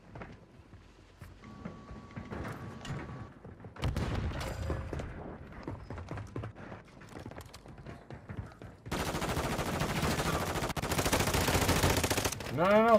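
Video game gunfire crackles in repeated automatic bursts, growing denser and louder toward the end, with scattered effects and occasional talk layered over the shooting.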